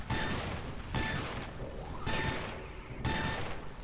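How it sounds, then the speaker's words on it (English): A turret being shot up and destroyed in the shooter Loadout, with four broadband bursts of gunfire and crashing spaced about a second apart, moderately loud and without speech. "I'm gonna take out that turret."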